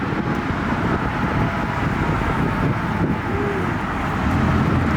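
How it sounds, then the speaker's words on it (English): A Ford GT pulls away from a car meet, a steady broadband engine and road roar held close and loud for the full stretch without a clear rev change, wind buffeting the microphone. "Another Ford GT."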